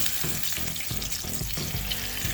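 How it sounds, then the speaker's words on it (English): Steady loud sizzling of chicken frying in hot oil, a dense crackling hiss with occasional stirring or shifting sounds, no voices. "you're going to fry it until it's nice and golden brown"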